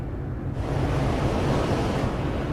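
Waves wash against the cruise ferry Scandinavian Star as it travels at 21 knots on a calm night sea, a steady rushing hiss of water and wind that swells slightly after the first half second.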